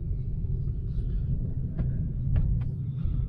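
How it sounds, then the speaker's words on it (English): Car engine running smoothly while driving slowly around a car park, a steady low rumble heard from inside the car with a few faint clicks. "Engine sounds sweet as a nut."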